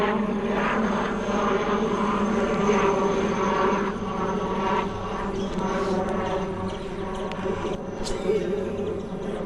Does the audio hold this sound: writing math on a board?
no